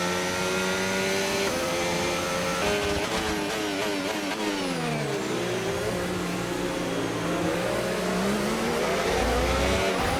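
A Formula 1 race car engine in the video game F1 25 screams loud and continuous, climbing through gear after gear with rising and falling pitch sweeps and a faint tyre squeal.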